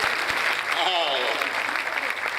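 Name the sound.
applause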